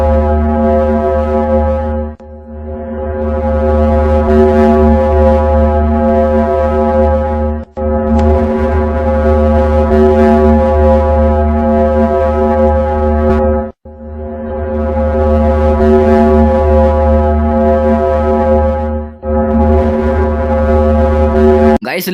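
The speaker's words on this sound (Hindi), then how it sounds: "अब सुन लेते हैं वीनस का साउंड।" A space recording presented as the sound of the planet Venus: a loud, deep, foghorn-like drone with rich harmonics, holding steady in long swells broken by brief dips roughly every five or six seconds.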